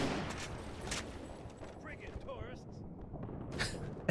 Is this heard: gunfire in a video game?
yes